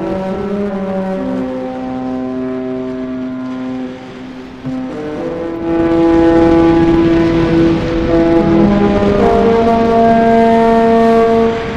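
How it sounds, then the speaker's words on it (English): The Sky Princess cruise ship blasting its horn in port at Southampton: loud, sustained, chord-like horn tones that hold, shift pitch and swell louder partway through, over outdoor waterfront noise. "Unmistakable noise of Sky Princess."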